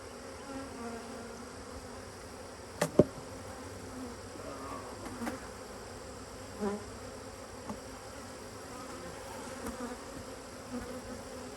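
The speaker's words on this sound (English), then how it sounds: "I see a bunch of those bees." Bees hum steadily around an opened beehive box at an apiary, a dense continuous buzz close by, with a few sharp knocks and clicks from handling the frames.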